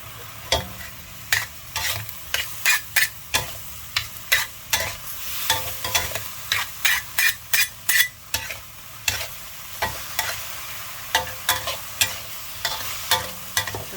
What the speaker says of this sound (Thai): ะผักรวมของเราใส่ไปเลยจ้ะ มีบรอกโคลีมีกระลำดอก มีเห็ดนิดนึง